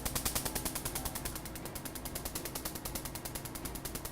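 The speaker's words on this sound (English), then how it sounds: "You also want to pay attention to the sound that you're hearing as you're hearing the snapping." A PicoSure laser handpiece fires a rapid, even train of sharp snapping pulses, several per second, close and continuous with no voices.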